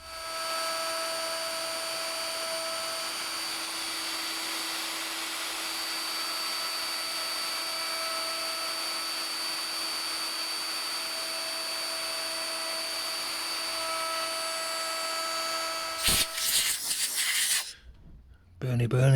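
Power saw cutting a groove in wood for a hospital bed footboard, a loud sustained whining buzz with steady tones that runs evenly, then roughens and cuts off near the end.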